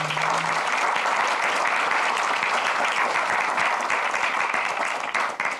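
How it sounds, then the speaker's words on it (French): An audience at an annual colloquium applauds the award laureates, with dense, steady clapping filling the room at a constant level before it tapers off slightly at the very end. "Je pense qu'on peut les applaudir."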